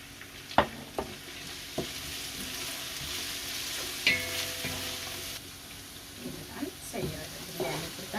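Onions frying in oil for a home-style biryani, a steady close sizzle with a few sharp clinks and stirring scrapes scattered through it and no talk.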